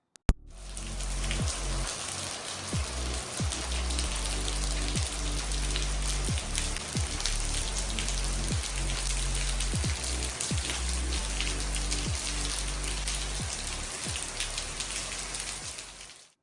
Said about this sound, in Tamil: திடீர்னுட்டு மழை.